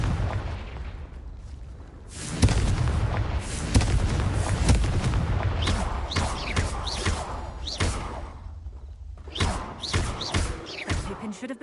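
Spell blasts and fiery Confringo explosions in Hogwarts Legacy, a run of heavy booming thuds and sharp cracks over a rumbling battle bed, dense and loud throughout.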